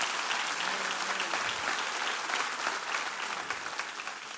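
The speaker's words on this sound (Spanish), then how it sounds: "si va a aplaudir, apláudele al Señor" A church congregation applauds during a sermon: dense, steady applause that fills the whole stretch, strong throughout and fading slightly toward the end.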